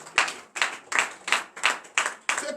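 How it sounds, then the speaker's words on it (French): A church congregation at a morning prayer service claps in acclamation, a regular rhythmic beat of sharp unison claps, about three per second, close and clear. "Donnez l'acclamation à sa parole."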